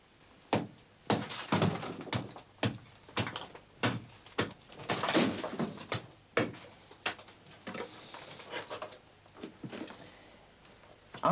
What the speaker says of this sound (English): Sometimes it is easier to use the backside of the antler as a hammer to knock on the lumps and to get off.